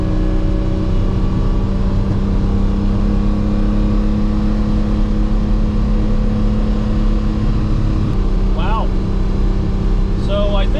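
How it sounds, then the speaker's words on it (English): A Ferrari 330 GTC drives along stuck in second gear after a broken shifter, its engine droning loud and steady from inside the car, with a brief change in pitch near the end and a few short vocal sounds. "Now I'm going to have to limp all the way home in second gear."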